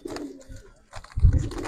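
An old-breed Giribaz pigeon coos softly up close in a few short, rounded calls, ending with a fuller, louder coo.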